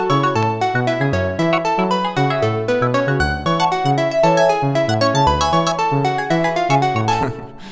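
Arpeggiated synth chord loops from FM8 presets layered together in Logic, playing a bright, steady repeating pattern of bell-like plucked notes over a low bassline for about seven seconds, then fading into a reverb tail.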